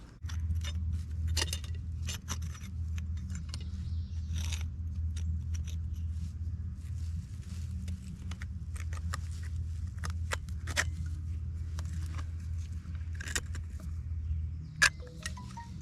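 Metal brake pads and slide pins being fitted into a Nissan 300ZX brake caliper, heard as scattered sharp clicks and light metallic taps over a steady low hum, with one louder clack near the end.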